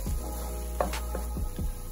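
Green chillies, cut lengthwise, hit a hot pan for butter chicken, giving a quiet steady sizzle with a few soft stirring clicks over a constant low background hum.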